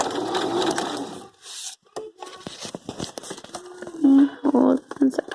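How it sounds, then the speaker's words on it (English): Sewing machine stitching a heart applique onto an apron in short bursts of rapid mechanical whirring and clatter, close by, with handling sounds between. "so we're gonna sew again, overlapping where our corner is"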